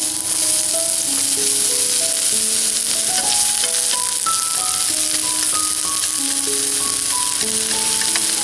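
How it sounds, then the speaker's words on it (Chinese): Onion sizzles steadily in hot oil in a pan, a loud, continuous frying hiss heard close up with no talking, while gentle background music plays underneath. "锅烧热了以后，倒油进来， 先下洋葱，"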